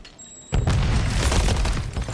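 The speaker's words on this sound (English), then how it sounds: "Huge grenade on Handsome in that deep corner" A grenade goes off in a video game, a sudden heavy boom after a quiet moment that rolls into a long, rumbling blast tail at close range.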